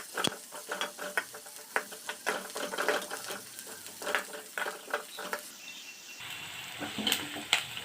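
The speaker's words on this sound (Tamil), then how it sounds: "வெங்காயம் கோல்டன் கலர் வர வரைக்கும் நல்லா வதக்கலாம்" Onions sauté in a pan for samba godumai rava upma, with repeated scraping spoon strokes over a soft, uneven sizzle close by and no one speaking.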